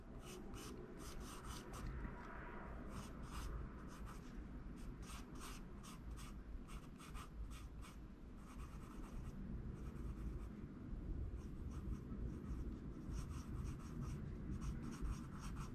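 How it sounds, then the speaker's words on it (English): A General's Layout Ebony pencil draws on paper in a quiet room, with close, rhythmic scratchy strokes and taps that continue steadily throughout. "you can hear the pencil hitting the page."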